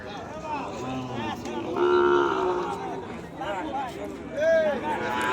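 A bull calf moos at a busy cattle market, with several drawn-out lowing calls from nearby and other cattle answering around it, over crowd chatter and people talking.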